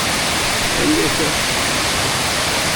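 Rushing water from a river and waterfall pours as a steady, loud, unbroken broadband roar across the whole stretch, with no clear voices above it.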